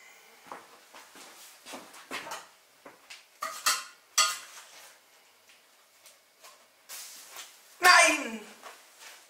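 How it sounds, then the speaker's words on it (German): Rice poured and stirred into a bowl in a home kitchen, producing scattered clinks, scrapes and rattles of dishes and utensils in irregular bursts, with a louder clatter near the end and people talking nearby. "wir werden jetzt das mit Reis füllen"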